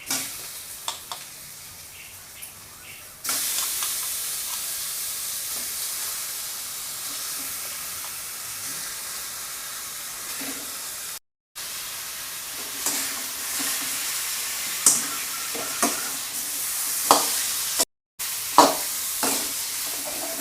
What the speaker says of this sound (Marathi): हळद टाकल्यानंतर हे हलवून घ्यायचं जरा हा त्यात मिक्स झाली ना का असे टाकायचे